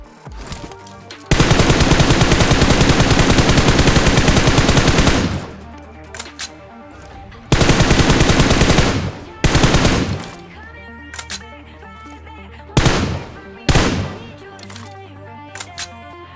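Gunfire in the mobile battle royale game PUBG Mobile comes as loud, sustained automatic bursts, first a long roaring volley and then shorter ones. Sparse single shots and clicks fall between the bursts.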